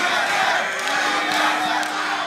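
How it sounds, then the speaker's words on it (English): An esports arena crowd at a 2014 North American League of Legends playoff match roars continuously, a dense, loud wall of cheering and shouting that holds steady throughout with no clear speech on top. "The crowd, obviously very much in TSM's favor,"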